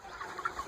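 Chickens cluck softly near a coop, a short run of three or four quiet clucks alone.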